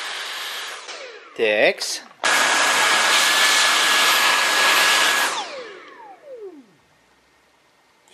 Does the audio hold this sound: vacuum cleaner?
yes